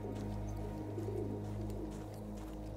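A pigeon coos faintly in the Battlefield 1 war game, soft repeated low calls sitting beneath a steady droning hum.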